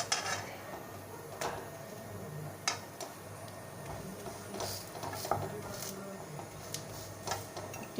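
Utensil scraping and tapping against a pan while a tal (palmyra) paratha mixture is stirred, with scattered light clinks and knocks over a low steady background hum.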